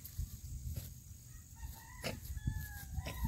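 A rooster crows faintly in the distance, and a few clucks and fowl calls sound over low farmyard background noise, with no talking.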